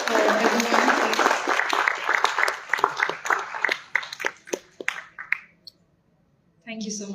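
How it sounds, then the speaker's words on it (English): An audience clapping at a diabetes awareness event, full applause that thins into scattered separate claps and stops, before a voice begins. "a big clap for everyone, please"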